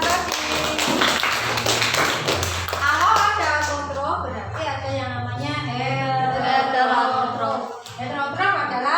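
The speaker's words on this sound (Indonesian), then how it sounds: "Tepuk tangan untuk Mas Adi." Applause for a student in a school classroom during a teaching-practice lesson: a burst of hand clapping in the first few seconds, mixed with children's voices and an adult speaking.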